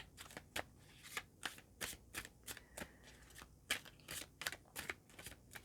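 Tarot cards shuffled by hand on a table, a steady series of crisp riffling and slapping bursts close to the listener, with no voices.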